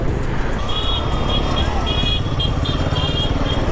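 Motorcycle cruising along a highway at speed on a long ride toward Kedarnath, a steady roar of engine and wind noise, with faint high-pitched tones pulsing intermittently over the top.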